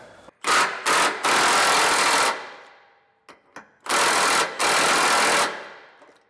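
A power tool loosens bolts on a Dexter Torflex trailer axle, with a couple of short bursts, then two long whirring runs separated by a pause, close and loud with faint clanks between.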